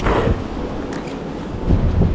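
Strong gale wind by an icy river roars and buffets against the microphone in loud, continuous gusts, swelling again toward the end.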